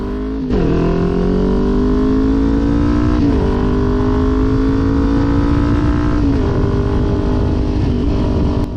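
A Kawasaki Ninja 400 motorcycle pulls onto the road and accelerates steadily, its engine note climbing through three gear changes at about 0.5, 3.3 and 6.3 seconds. The engine is loud and close, with no talk over it.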